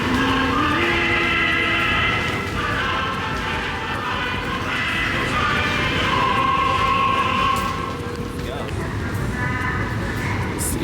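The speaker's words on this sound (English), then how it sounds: "we are now on our way to take the train to Chiang Mai." An overnight train bound for Chiang Mai, Thailand, rumbles steadily with continuous rail noise and shifting tonal hums throughout, loud and close, while people talk over it.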